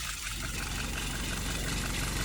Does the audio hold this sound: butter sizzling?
no